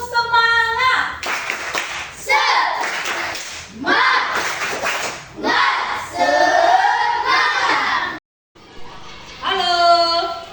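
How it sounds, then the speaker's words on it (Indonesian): A classroom of children performs a rhythmic spirit clap, bursts of patterned clapping alternating with chanted group speech and a teacher's voice, close and lively. "Tepuk semangat!"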